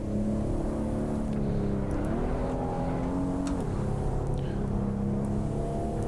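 A 2018 Kia Stinger's engine lapping Mosport in a sim racing game, droning steadily and loudly with the pitch shifting up and down as it shifts and accelerates, with no talking.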